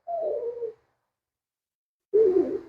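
A senior poodle whines while being groomed, two separate nasal, tonal cries with a long silent gap between them, close and fairly quiet.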